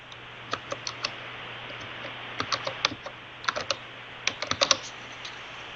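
Keys clatter on a computer keyboard while an IP address for a Vertica database cluster is entered, in short irregular bursts of clicks over a quiet room hum.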